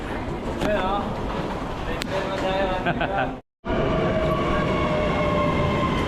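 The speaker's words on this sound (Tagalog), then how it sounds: "Ito na yung train natin mga kabiyahe." A train pulls into a station on the route from Copenhagen, Denmark to Malmö, Sweden, with a steady rumble, squealing brake and wheel tones, and a short cut to silence partway through, all under people talking.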